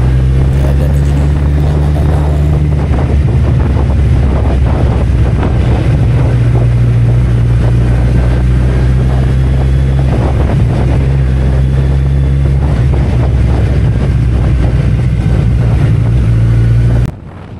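A 2011 Kawasaki Z1000SX motorcycle being ridden on the road, its engine droning loud and steady under heavy wind rush at the helmet microphone, then cutting off abruptly at the end.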